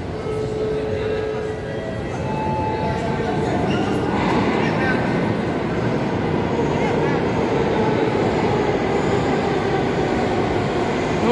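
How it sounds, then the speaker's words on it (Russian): Rumbling metro train noise fills an underground station at Ploshchad Revolyutsii, Moscow, building steadily as it rolls through, with a brief higher squeal early on and no pauses. "Поезд находится здесь."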